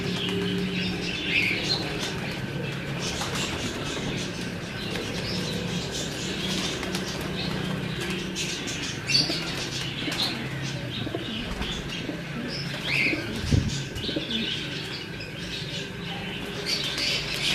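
Jeller breed pigeons in a loft coo steadily and flap their wings now and then, with soft chirps over a constant low murmur of background noise.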